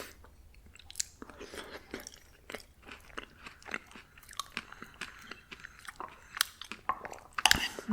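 Raw fruit from a fruit bowl is bitten and chewed close up, with crisp, wet crunches repeating in an uneven rhythm throughout.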